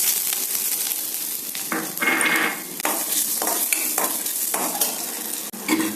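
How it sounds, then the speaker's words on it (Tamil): Chopped ginger sizzles steadily in ghee close by, with bursts of stirring and scraping in a pan; no one speaks. "கொஞ்சம் இஞ்சி நறுக்கி வச்சிருக்கேன் அதையும் இந்த நெய்யில் வறுத்துடலாம்"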